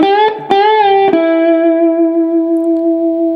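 Electric guitar lick in the style of a song's guitar solo, a few bent and hammered notes settling into a long sustained tone with vibrato and effects, played solo and up close.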